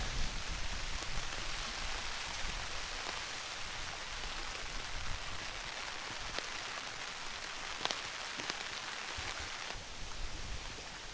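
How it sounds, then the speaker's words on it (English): Steady autumn rain patters on a camping tarp over an urban hammock camp, making a dense, even hiss with occasional heavier drops and no voices. "Now it's raining again."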